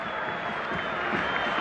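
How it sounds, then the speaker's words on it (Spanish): Crowd at a football stadium applauds a player being substituted off, a steady broad wash of clapping and murmur held at a distance throughout. "Ahí están los aplausos para Alan Ruiz, que se retira de la cancha"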